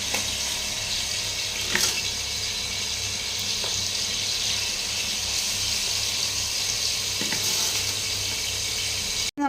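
Chicken pieces lightly frying in a pan, a steady, soft hiss of sizzling oil throughout, broken by a few faint clinks and taps of a utensil.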